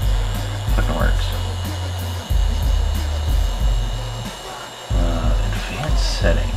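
A motor runs slowly on a bench test with a Pololu 18v7 simple motor controller, giving a low droning hum that clunks and cuts out, then restarts several times. A person talks over it.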